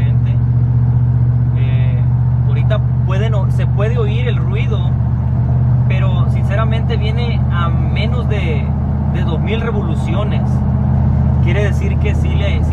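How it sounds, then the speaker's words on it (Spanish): A car cruises along a freeway with a constant low engine and road drone from inside the cabin, while a person talks over it throughout. "Aquí venimos ya en el freeway, aquí venimos manejándola."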